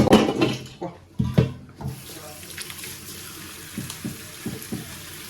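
Green beans being washed in a basin under a running kitchen tap, with water splashing and gurgling in uneven bursts close by, louder at first and then settling into a softer trickle with small splashes.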